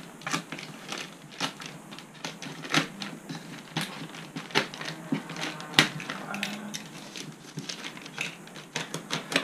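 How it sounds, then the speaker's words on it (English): Blade of a utility knife slicing through plastic packaging during an unboxing, heard as quiet, irregular crackling and scraping clicks close by, with no talking. "we've got the old Stanley knife out. So we'll cut very, very carefully through this."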